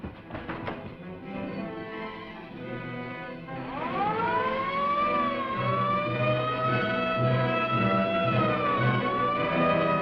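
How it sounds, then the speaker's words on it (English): An alarm siren winds up and wails steadily, a loud rising tone that holds and wavers over background music, following a brief clatter at the start. "Sound the alarm!"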